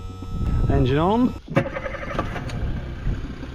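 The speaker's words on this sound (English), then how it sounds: "Engine on." An outboard speedboat engine cranks and catches on a foggy morning at sea, a rising whine giving way to a rough running rumble, close and fairly loud, with a voice speaking during the start.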